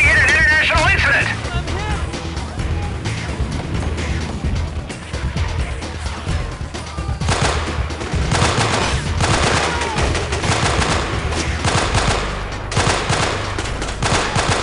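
Sustained automatic gunfire in the video game Delta Force: Black Hawk Down rattles in dense, overlapping bursts, loud and close throughout, with crashes and a shouted voice cutting through the barrage.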